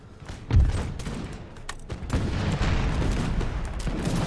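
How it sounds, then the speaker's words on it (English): Musket volleys crackle through a Napoleonic-era battle in the game Imperial Splendour, with artillery also firing. Massed shots come in rolling, overlapping bursts, with a heavy thump early on and dense gunfire continuing steadily behind it. "It looks like they're finally getting really nice volleys over here"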